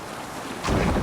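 Viking longship at sea in Assassin's Creed Valhalla, with steady wind rush and water noise that swells suddenly into a louder surge of wind and waves partway through, no voices.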